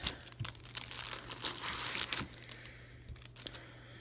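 Scissors cut through the plastic packaging of a Lego set with crinkly snipping and rustling, close and fairly quiet, in a quick series of small cuts and crackles.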